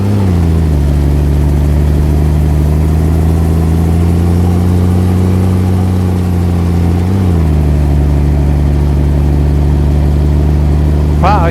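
A truck in American Truck Simulator, fitted with 24.5-inch wheels and driven on a wet Houston Raceway track, gives a loud, steady engine drone that holds its pitch, briefly dips and recovers, with a short high squeal at the end.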